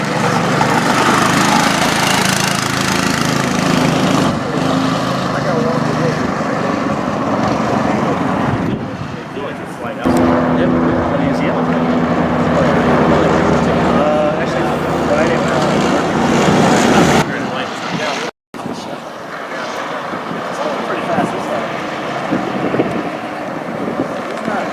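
A Studebaker chassis on a test drive: its engine drones steadily throughout, buffeted by strong wind noise, with people talking over it and a brief dropout near the end.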